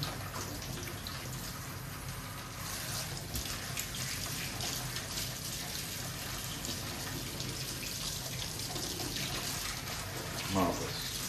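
After an Ariston Genius HE boiler motherboard repair, water runs from a tap in a steady, loud rushing stream for several seconds, with faint talk beneath it.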